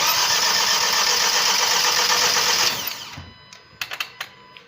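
A Kia Sorento 2.0 TGDI engine, on a first start attempt with no fuel yet reaching it, gives a loud steady whirring drone for about three seconds, then winds down and stops, followed by a few sharp clicks and knocks.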